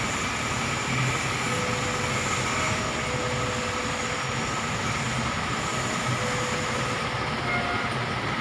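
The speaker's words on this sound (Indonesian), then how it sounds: "untuk melihat kedatangan kereta api Pangrango dari Sukabumi ke Paledang" The Pangrango train from Sukabumi rolls slowly into Paledang station, a continuous low rumble of wheels and engine holding steady, with faint squealing tones from the rails and no talking.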